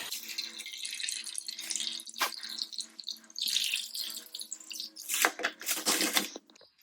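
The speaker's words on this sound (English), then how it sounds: "we're just going to pull everything out of the pot, let it drain right on out" Water draining out of a plant pot after repotting a Laelia tenebrosa orchid into pumice, a close, uneven trickling and splashing with bursts of gritty rattle, fairly soft and without talk.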